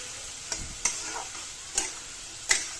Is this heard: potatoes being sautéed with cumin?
yes